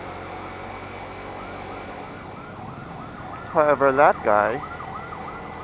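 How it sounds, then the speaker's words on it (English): An ambulance siren wails on the road during a ride, rising out of steady traffic and wind noise in a few loud, close swells before fading back, with someone talking over it. "hear the ambulance siren, you should always give way"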